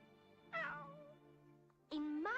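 A cat meows twice, a drawn-out, wavering call followed after a pause by a second louder, sharper meow, close and clear over a faint steady background tone.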